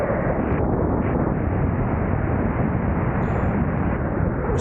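A Streak Shadow microlight aircraft touches down on a runway, heard from inside as a constant loud rushing roar of engine and wind with no break.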